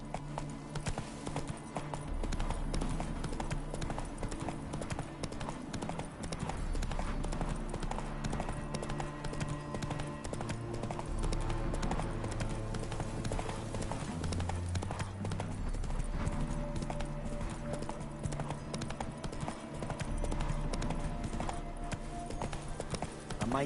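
A horse gallops continuously in The Witcher 3: Wild Hunt, its rhythmic hoofbeats pounding steadily over dirt with game ambience, music and an occasional snort or whinny layered underneath.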